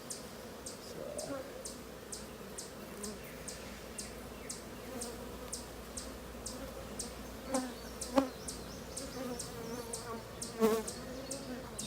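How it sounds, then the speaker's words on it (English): Bees in a hive holding a queen cage hum in a dense, close, continuous buzz, with occasional louder individual bees flying near and regular faint clicking over the top, no one talking. "she has a lot of bees in there"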